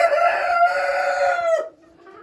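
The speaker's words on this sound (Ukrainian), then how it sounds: "Новий півник у Марукана." A rooster crows once, loud and close, a long strained call that holds for over a second before cutting off into near quiet.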